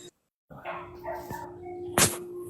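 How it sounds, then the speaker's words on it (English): A dog barks indoors in two separate bursts: a rougher bark near the middle, then a sharper, louder bark close to the end. A faint steady hum runs underneath, and there is brief silence at the start. "Yeah, my dog's just a barking."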